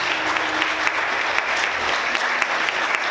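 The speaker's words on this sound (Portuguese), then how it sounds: "Quantos podem aplaudir o Senhor?" Church congregation applauding together in steady, dense clapping that fills the whole moment, with no voices standing out over it.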